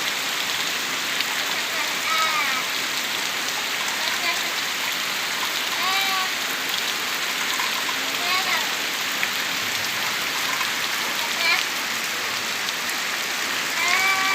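Heavy rain with strong wind on a rural smallholding, a dense, steady roar that fills the whole stretch without pause, with faint bird chirps now and then.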